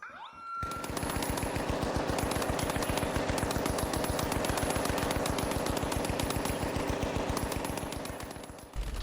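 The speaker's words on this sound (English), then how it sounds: "Listen to the turret there." A turret in the video game The Finals fires a long, unbroken automatic stream of rapid, evenly spaced shots, loud and close, running for nearly the whole stretch with a sharp metallic edge.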